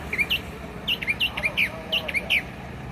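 A bird beside a Greyhound bus chirps in quick, bright, repeated tweets, close and clear in small bursts over faint background hum.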